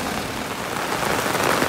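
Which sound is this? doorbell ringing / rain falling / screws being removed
rain falling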